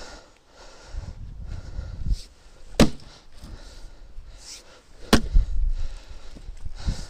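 Two sharp, loud axe strikes split white birch firewood outdoors, landing about two seconds apart amid low rumbling background noise, with no talking.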